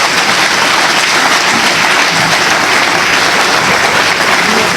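Dense, sustained audience applause after a mock trial at an eloquence evening, loud and even throughout with no voices above it.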